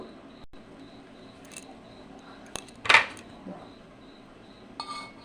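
Coriander chutney with sugar and salt being stirred in a bowl, a few sparse metallic clinks and scrapes of a spoon against the bowl, with one sharper clatter in the middle over a quiet background.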